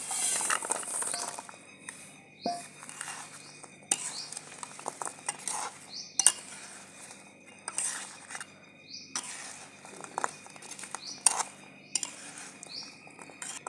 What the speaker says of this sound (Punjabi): ਆਪਾਂ ਇਹਨੂੰ ਇਸ ਤਰ੍ਹਾਂ ਹਲਾਈ ਜਾਵਾਂਗੇ ਜਿੰਨਾ ਚਿਰ ਠੰਡੀ ਨਹੀਂ ਹੁੰਦੀ ਉਹਨਾਂ ਚਿਰ ਹਲਾਈ ਜਾਵਾਂਗੇ